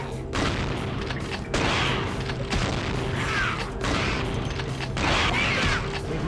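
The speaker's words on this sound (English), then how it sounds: "Let's go shotgun." A shotgun fires repeatedly in Vampire the Masquerade Bloodlines, loud sharp blasts roughly every second, each followed by a short mechanical clatter, over steady game noise.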